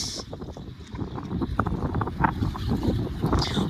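A boat moves quickly across open water with wind buffeting past, giving a steady rushing roar with gusting noise and a few faint knocks, no voices.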